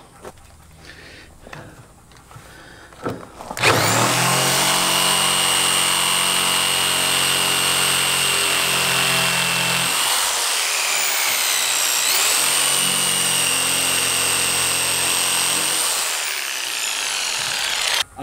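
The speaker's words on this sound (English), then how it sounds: "So now we're gonna switch saws to a jigsaw." A jigsaw cuts a notch into a 2x4, loud and close: a steady buzzing saw runs for about six seconds, stops briefly, then runs again for several seconds before cutting out.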